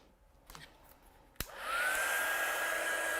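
After a couple of faint taps and a sharp click, a hair dryer switches on over a watercolour painting on a board, rising into a steady close whoosh with a high whine that holds to the end.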